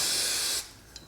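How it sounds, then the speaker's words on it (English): CA glue activator is sprayed in one close, half-second hiss that cuts off abruptly, leaving near silence with a tiny tick afterward. "I'll put a little activator on it."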